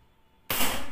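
A single sharp shot from a Diana Stromrider Gen3 PCP air rifle, a sudden close crack with a short bright tail that breaks a near-silent moment.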